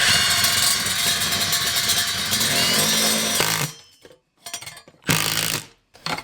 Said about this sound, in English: I'm using some stainless steel lag bolts connected to my impact driver with a socket adapter, and I'm driving this directly into the wall studs.